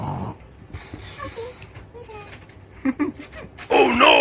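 A child imitates a second kind of snore, making rough, snorting breath sounds that come in short bursts close to the mic, with a louder wheezy burst at the end and family members talking quietly in the background.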